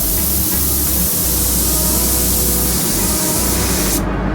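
A spray gun set wide open at full fan and full fluid, running at 20 PSI, lays a wet coat of paint with a loud, steady, continuous hiss that stops abruptly near the end.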